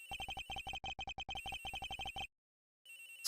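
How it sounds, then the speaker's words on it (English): A phone rings in the Ace Attorney Investigations video game as a fast electronic trill in rapid pulsed bursts, briefly pausing, then stopping for a moment before another burst begins, clear and without speech. "Sounds like the phone is up in the flight attendant's room"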